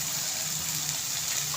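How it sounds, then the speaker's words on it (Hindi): Water pours steadily into a pan of anda masala, a continuous splashing gush at close range, with no voices over it. "थोड़ा सा इसमें पानी ऐड कर देते हैं।"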